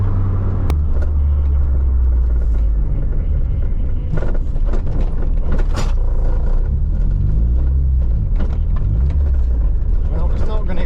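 An old Vauxhall Nova labours uphill in third gear, its engine a loud, continuous low rumble inside the cabin, with someone talking over it.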